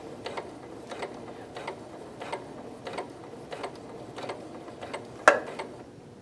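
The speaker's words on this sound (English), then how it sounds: "and you can continue to sew." A sewing machine stitches a 5/8 inch seam in a slow, even rhythm of soft mechanical ticks, with one sharper click near the end, close and moderately quiet, without talk.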